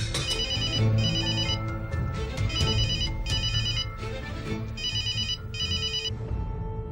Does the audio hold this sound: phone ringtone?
yes